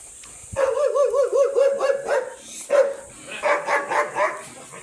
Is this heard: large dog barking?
yes